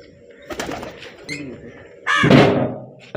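Close pigeon coos with scattered knocks and rustling during a racing pigeon competition, ending in a sudden loud burst of flapping or handling noise.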